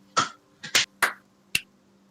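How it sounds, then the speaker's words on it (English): A few sharp, uneven hand claps and smacks ring out close and dry, scattered in a ragged sequence rather than one clean clap, with quiet gaps between them. "That was the worst clap"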